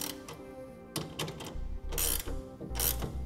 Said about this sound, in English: Now we'll take our 9/16 inch wrench and tighten it down.